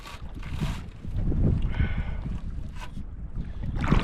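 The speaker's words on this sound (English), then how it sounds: "it's windy" Strong wind gusts buffet the microphone on a cold canoe camping trip, roaring and rumbling unevenly throughout with no voices.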